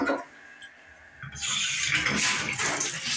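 Shower water running in an apartment, a steady hissing spray that starts abruptly after a brief quiet stretch and continues close and loud.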